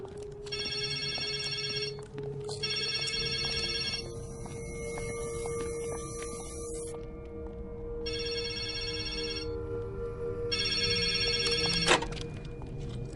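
A telephone rings in Resident Evil 2, with repeated trilling double bursts separated by short pauses and a steady electrical hum beneath, fairly close and clear with no speech.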